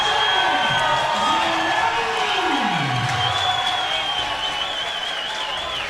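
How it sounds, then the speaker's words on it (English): Spectators at a Hardrock MMA 84 fight cheer and applaud loudly for a fighter, a continuous crowd roar with rising and falling shouts and whistles that fades slightly toward the end. "Crowd reaction there."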